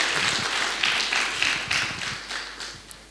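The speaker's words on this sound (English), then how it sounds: "May I have a big round of applause to our speaker too," An audience claps for a speaker at a talk, a dense wash of hand claps that swells in soft rhythmic pulses and gradually thins toward the end, fairly close and without voices on top.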